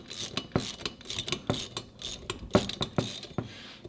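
A ratchet wrench cranks a part loose while bearings are changed on a Model 2 or Thunderbolt chopper, giving a close, steady series of sharp metallic clicks about twice a second.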